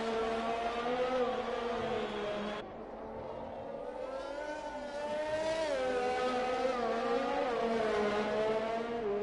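A Formula 1 car in F1 2020 at the Singapore circuit screams past at high revs, its engine pitch sliding and a gear change cutting the whine before it climbs again, loud and continuous.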